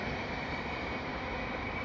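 A CN mixed freight train rolls past in winter behind the Dorval ramps, a steady broad rumbling roar with no breaks, moderately loud and constant, with no voices.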